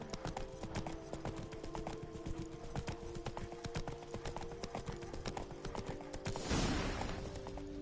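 Roach, a horse in The Witcher 3, trots in a steady clip-clop rhythm throughout, with a louder burst of movement near the end.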